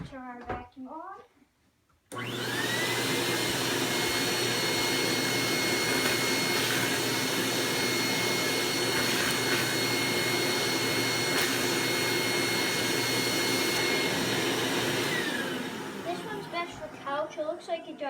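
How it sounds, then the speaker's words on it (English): A Eureka The Boss Mighty Mite II vacuum cleaner switches on with a rising whine, runs at a loud steady roar for about thirteen seconds, then winds down, with a voice heard briefly before and after. "Let's turn our vacuum on."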